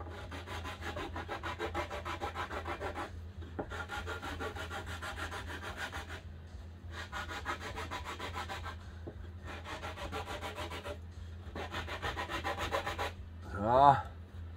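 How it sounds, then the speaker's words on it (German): Repeated back-and-forth strokes of sandpaper rubbing on a wooden SUP paddle in regular bursts, separated by brief pauses, close and fairly quiet. "Und so etwas könnt winklig anschleifen."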